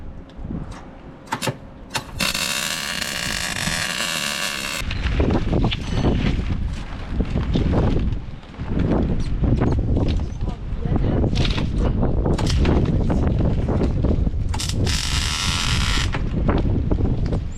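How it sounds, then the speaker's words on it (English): Wind gusts buffet an outdoor welding setup for a budget precision sprayer build, roaring loudly and steadily across the microphone with bursts of hiss, while a person shields the work from the wind. "We're out here in the wind, so Jaden is providing our wind block for us"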